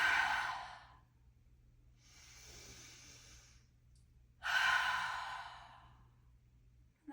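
Cleansing breaths in a sacral chakra yoga flow, each a nasal inhale followed by a forceful exhale through the mouth: three airy, close puffs, the first and last loudest, separated by quiet gaps over a low steady hum.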